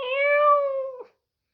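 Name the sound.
voice imitating a cat meowing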